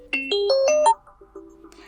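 A short Sony Xperia 1 VII alarm ringtone melody plays a quick sequence of bright tones, then a softer tone lingers and fades.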